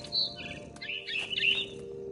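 Small bird chirps sound from a big tree in the video game What Remains of Edith Finch, a few quick high tweets scattered over a quiet background, soft and somewhat distant, with no talking.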